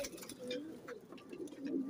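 Pigeons cooing close by, soft repeated throaty coos running through a brief stretch with a few faint chirps and background murmur.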